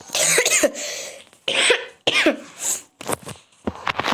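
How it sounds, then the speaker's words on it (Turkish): Person sick with a cold coughs several times in harsh, close bursts separated by short pauses, loud and alone without talk. "Öksürdüğüm için özür dilerim"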